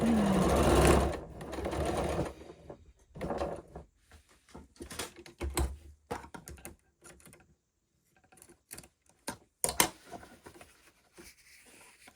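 A domestic sewing machine loosely basting or stitching dressmaking fabric runs in a long steady burst at the start, then breaks into short stop-start bursts and clicks, close and alone.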